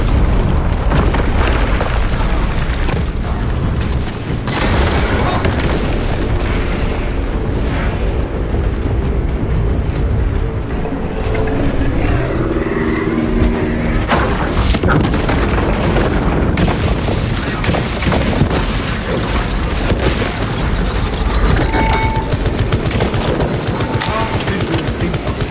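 Heavy cannon booms and explosions in the Warhammer 40,000 Space Marine 2 video game, a loud continuous barrage of deep blasts and rumbling battle noise with mechanical clatter throughout.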